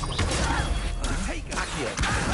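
An Expelliarmus spell cast in Hogwarts Legacy, heard as a dense burst of magical whooshes and crashing impacts in busy game audio, loud and continuous, with a voice speaking over parts of it.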